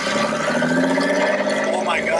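Big turbo on an RB engine in a Nissan 240SX, giving a sustained high whine with shifting tones over engine drone, while someone talks loudly over it.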